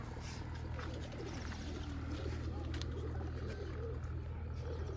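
Pigeons at a home loft give low, repeated coos over a continuous background hum, with occasional faint voices nearby.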